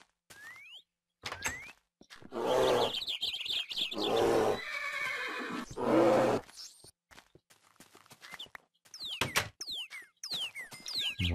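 A horse from the Mo Creatures mod in Minecraft neighs and whinnies in several rising and falling calls, interspersed with short clicky game sounds and brief silences, fairly quiet overall.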